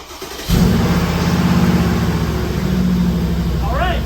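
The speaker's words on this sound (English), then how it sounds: "I'm gonna go ahead and crank it up" A Mercedes G63 AMG engine cranks and catches after a short quiet lead-in, then settles into a loud, steady idle close by; a voice talks over the running engine near the end.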